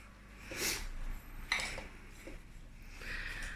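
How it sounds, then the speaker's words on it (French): A spoon clinks and scrapes against a bowl while honey is stirred into a homemade cereal bar mixture, a few bright clinks over a soft continuous scraping, close but quiet. "Ensuite, 2 cuillères à soupe de miel. Et on mélange."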